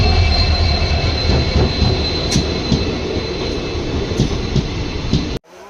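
A Madurai–Rameswaram passenger train hauled by a WDP-4 diesel locomotive runs past alongside: loud, close rolling roar with wheel clatter and faint high squeals, cutting off abruptly at the end.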